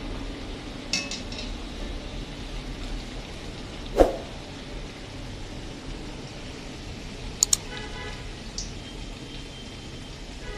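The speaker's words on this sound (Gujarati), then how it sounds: "એકદમ ગોલ્ડન બ્રાઉન કલર થઈ જાય ત્યાં સુધી આપણે તળવા દેવાની છે" Lachka pakodi fry in hot oil until golden brown, giving a soft, steady sizzle throughout with a couple of sharp utensil clinks and no talk.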